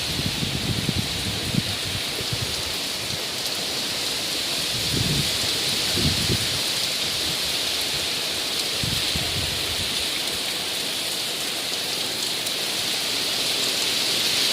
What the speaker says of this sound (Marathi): वारा आणि पाऊस.